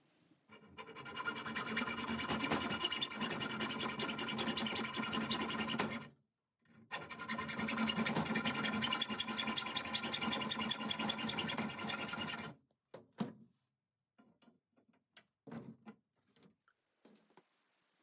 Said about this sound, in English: you can use a hacksaw and a pair of pliers to notch out about a 1/2 inch from the center of the